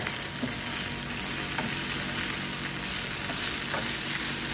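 Food frying in a pan, a steady loud sizzle that fills the whole stretch without break or talk.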